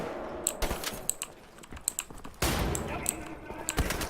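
Shotgun blasts in the shooter game Wolfenstein: The New Order: several sharp, fairly faint bangs scattered among clattering game noise, with one heavier roaring burst partway through.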